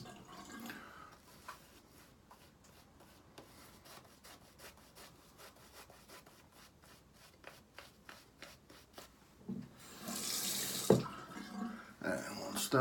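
Water added to Cape Cod Cranberry shaving soap lather: quiet rhythmic brushing strokes, then a brief louder rush of running water toward the end.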